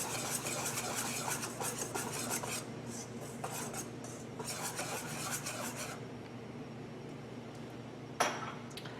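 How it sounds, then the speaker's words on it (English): Dry ingredients for spelt sourdough bread are mixed in a bowl, a close soft rasping and scraping that runs in quick strokes, then thins out and stops, with one small clink near the end. "And then you mix your dry ingredients."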